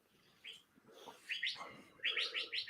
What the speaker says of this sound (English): It's a different kind of bird I'm not used to.